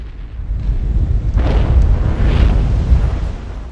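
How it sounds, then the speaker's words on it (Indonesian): A deep, rumbling explosion in the sky swells and rolls on for a few seconds, heavy and boomy with no voices. "sebuah ledakan di langit mengalihkan keheningannya"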